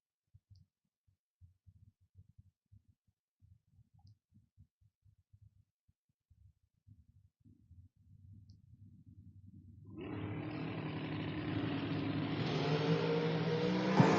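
A drag racing dragster launching down the strip at the FRBR Independence Showdown, starting with quiet low clicks and idle rumble, then a loud engine roar bursting in and building as the car pulls away.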